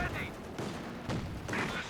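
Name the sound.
gunfire in the video game Company of Heroes 2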